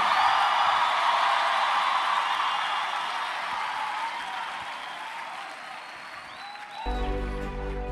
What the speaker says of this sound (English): clap them hands and scream hallelujah